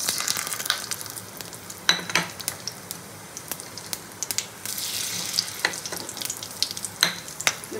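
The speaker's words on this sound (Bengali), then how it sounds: "ফোড়নের জন্য গোটা গরম মশলা, জিরে, তেজপাতা আর একটু চিনি দিয়ে দেবো তেলের উপরে" Whole garam masala, cumin, bay leaf and sugar fry in hot oil with a soft steady sizzle, punctuated by scattered sharp spattering pops and light clinks of a spoon against the pan.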